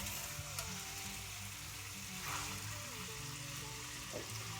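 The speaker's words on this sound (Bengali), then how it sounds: "এখন দেখছি ওই ম্যারিনেট করা চিকেনটা পেঁয়াজের সাথে ভালো করে কষিয়ে নিচ্ছে" Marinated chicken frying with onions in a pan makes a steady, dense sizzle throughout, with background speech and some music-like tonal lines layered over it.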